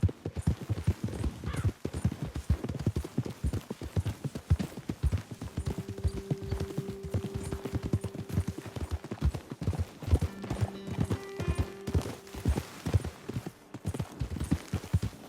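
Steady, rapid horse hooves clip-clopping across the whole stretch in the video game Red Dead Redemption 2, with a low sustained tone drifting in and out beneath the rhythmic beats.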